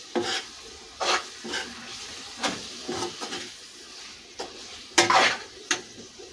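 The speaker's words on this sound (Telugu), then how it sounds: "ఒకసారి కలుపుకుందామండి" A spoon stirs turmeric and chilli powder into drumstick curry in a pot, bursts of scraping and clinking against the metal at irregular intervals over a soft background sizzle.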